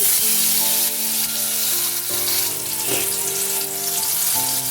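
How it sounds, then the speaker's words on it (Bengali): Chopped tomato fries in hot oil with dried red chili and nigella seeds for masala bhindi, giving a loud, steady sizzle with intermittent scraping stirs and a soft clank, and no talking. "তেল গরম হলে ফোড়নের জন্য দিচ্ছি শুকনো লঙ্কা সামান্য কালো জিরে এবার দিয়ে দিচ্ছি টমেটো"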